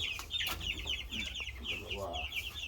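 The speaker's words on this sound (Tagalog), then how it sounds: "Siya yung pinakaunang sisyo na nakalipat dito sa bagong kulungan." Young chicks being moved into a new, roomier coop, with a close, busy chorus of high peeping and chirping throughout and some low background rumble.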